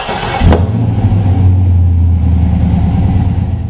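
A Mast M-90 ECM engine in a 1966 Pontiac GTO cranks and fires right up, then settles into a loud, steady, deep idle heard close with no talk.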